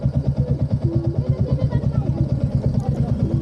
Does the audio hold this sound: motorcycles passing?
yes